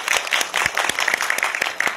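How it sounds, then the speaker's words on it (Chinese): Audience applause welcoming a lecturer at a museum talk on lacquerware, a small room of scattered individual claps, distinct and fairly close, steady for the whole stretch. "大家掌声欢迎"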